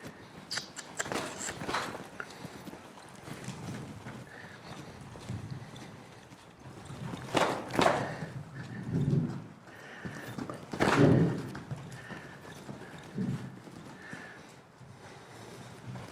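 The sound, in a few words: paint horse hooves moving on ground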